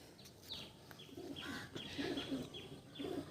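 Andhra pigeons in a loft give soft, repeated low coos with a few faint chirps, quiet and close in a calm setting.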